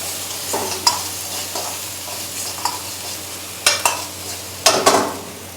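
Curry leaves and ginger garlic paste stir-fried over a high flame in a restaurant kitchen, a loud sizzle punctuated by sharp metal spatula scrapes and clanks against the pan, close and with no speech.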